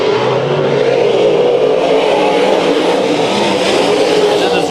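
Race cars roar around Bakersfield Speedway during a heat race, a loud continuous engine drone with rising revs, while an announcer talks over the pack.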